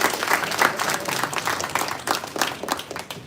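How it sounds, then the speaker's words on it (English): Audience applause at an anniversary dinner reception, a steady wash of many hands clapping at moderate distance that carries through the whole stretch and softens slightly toward the end. "Round of applause."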